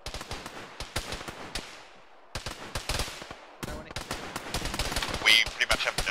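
Gunfire in the Arma military shooter game erupts in sharp rapid bursts and single cracks, pausing briefly before resuming in dense volleys, with a voice calling out amid the shots.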